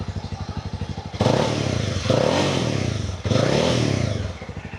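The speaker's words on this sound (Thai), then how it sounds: "เดี๋ยวลองเร่งเครื่องกันสักนิดหนึ่งนะครับ" A 2020 Honda CB300R motorcycle with stock exhaust idles with a steady chugging, then revs up loudly in three short bursts, each held briefly before dropping back.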